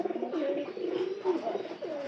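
Pigeons coo close by in a steady, throaty, warbling run of low calls with no other sound around them.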